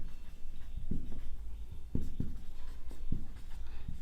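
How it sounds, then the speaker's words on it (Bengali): Pen or chalk writing out a math equation for a class 9 simultaneous equations lesson, with soft scratchy strokes and occasional taps in a quiet room, no speech. "এদিকে লিখছি"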